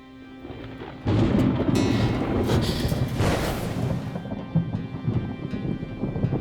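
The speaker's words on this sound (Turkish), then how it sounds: "Ben gök gürültüsünden korkarım da biraz" A loud thunderclap breaks suddenly and rolls on for several seconds, fading into a steady patter of rain.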